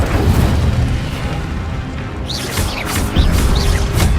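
Fire spell blasts in the Hogwarts Legacy video game: a sustained roaring, booming rumble, then several bright whooshing bursts crackle in quick succession toward the end, loud and close with no talking.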